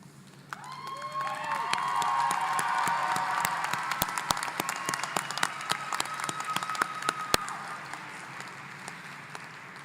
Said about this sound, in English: would you please stand and give a big round of applause to your